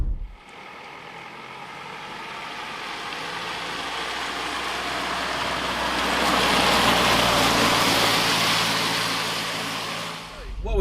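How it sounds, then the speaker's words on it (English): Road noise and engine drone from an SUV crossover being driven, with a torquey, coarse, agricultural-sounding engine; a steady broadband rumble that swells midway, with faint talk beneath it. "The engine's good, but the sound it makes isn't good."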